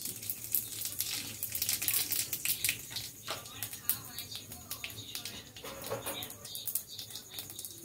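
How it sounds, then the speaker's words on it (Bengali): Whole cumin and garam masala spices sizzle steadily in hot oil in a Bengali kitchen while ghugni is made, a dense crackling hiss with scattered sharp pops running throughout at moderate loudness. "আর এই যে একটুখানি গোটা জিরে দিয়ে দিচ্ছি"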